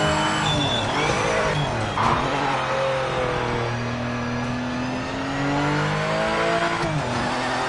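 A race car in the Project Motor Racing game pulls away from a pit stop, its engine revving up through the gears in steady rising sweeps, loud and close, with a short tire squeal near the start.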